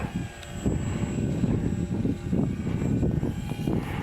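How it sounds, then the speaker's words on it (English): Vintage propeller airplane lifting off and climbing, a steady droning engine roar that stays loud and close throughout with slight surges in intensity. "Oh, look at there, nice liftoff."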